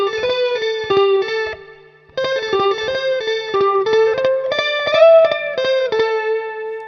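Electric guitar through a Source Audio C4 synth pedal set for modulated slapback delay, bright plucked notes each trailed by a quick wavering echo in a steady melodic phrase, loud and clean with no talk.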